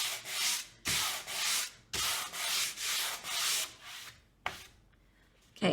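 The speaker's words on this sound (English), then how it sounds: "make sure you're sanding in line with all of your lines that you've already put." Hand sanding on a painted wooden lake porch sign to make it look weathered: long, steady back-and-forth rasping strokes in a regular rhythm, close and loud, ending with a pause and a light knock.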